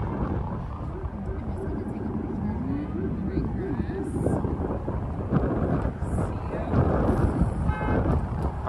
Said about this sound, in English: the wind sound is relaxing